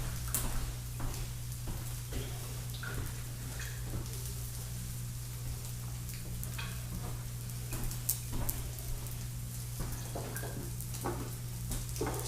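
Savoury French toast sizzling steadily in a frying pan, an even crackling hiss with small pops and occasional scrapes as a spatula presses it down, with no talking.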